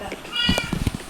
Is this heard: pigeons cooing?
no